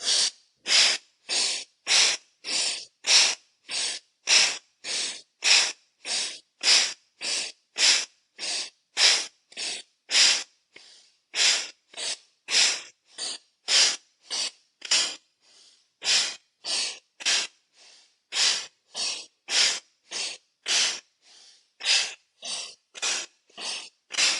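Rhythmic forceful breathing during a solar plexus chakra yoga flow, with sharp, hissing breaths repeated steadily about once a second, close and loud, with no talking.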